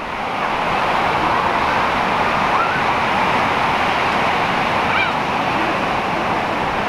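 Ocean surf waves at a surfing spot roar steadily and loudly, a broad continuous wash of breaking water with no pauses.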